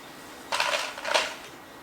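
Mung beans are spooned onto a plate in two quick scoops, each a soft clatter of beans and scraping spoon on the dish against a quiet background.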